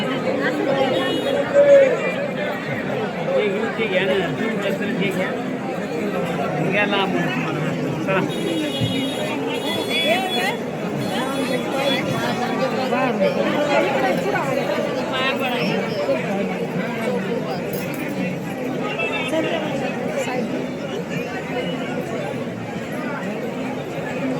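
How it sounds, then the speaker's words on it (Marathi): Large crowd chattering at a temple gate awaiting Vitthal darshan, a dense continuous babble of many voices close around with a steady murmur throughout. "लय गर्दी आहे."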